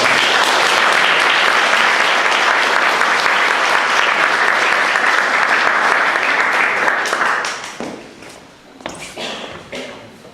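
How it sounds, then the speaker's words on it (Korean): A church congregation at a Sunday worship service applauds to welcome a visiting preacher, a dense, loud wash of clapping that holds steady for about seven seconds, then thins out and fades, leaving a few scattered claps and light shuffling and taps. "박수로 환영하도록 하겠습니다"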